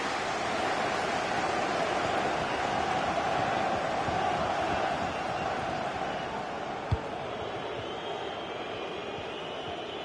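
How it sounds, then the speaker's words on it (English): Dense, roaring football stadium crowd at Derby County versus Nottingham Forest, a steady broadband wash of many voices with one sharp thud near the end, loud and continuous throughout. "Well, just listen to the crowd."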